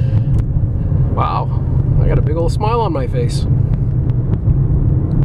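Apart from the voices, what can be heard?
2009 Toyota RAV4 V6 accelerating on test drive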